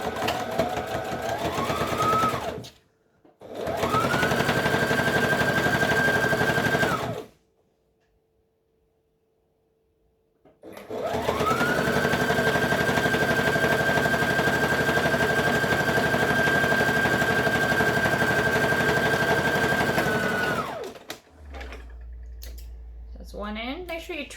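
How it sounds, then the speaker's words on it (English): Sewing machine stitching hoodie fabric in long steady runs of fast, even stitching, broken by a couple of pauses and a stretch of near silence, loud and close. "I know I'm going to sew it bottom to top"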